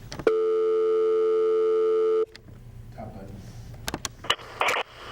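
A telephone line tone sounds as a viewer call comes in on a community call-in TV show, a loud steady electronic tone lasting about two seconds, followed by faint clicks and rustling handling noises.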